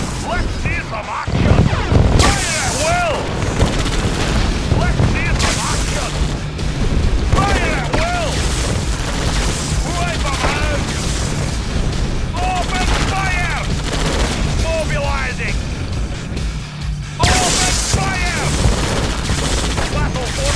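Dense gunfire and explosions fill a Red Alert 2 battle against seven opponents with superweapons, with continuous machine-gun bursts, rattling fusillades and booming blasts, loud and close throughout, while unit voices call out over the fighting.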